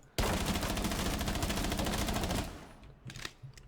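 Sustained automatic gunfire in Rainbow Six Siege, a rapid unbroken burst shooting out a wall corner for over two seconds, then stopping abruptly with a few faint clattering debris sounds afterward.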